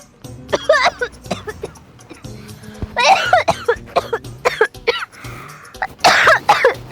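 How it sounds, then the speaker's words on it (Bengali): Repeated harsh coughing fits, close and loud, with throat clearing between bursts. "আরে প্রথম প্রথম ওর একটু কাশি হয়"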